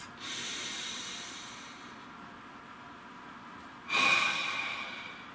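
Slow, deep breathing close to the microphone: a long airy exhale that fades gradually, then a sharper, louder breath drawn in after a pause, with no talking.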